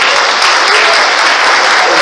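A church congregation applauds, a dense, loud, sustained wash of clapping that fills the whole stretch without a break.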